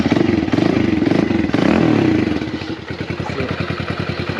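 A Kawasaki KLX110 dirt bike engine runs close by, pulsing loudly with a brief rise in revs before settling into a steady, rapid putter.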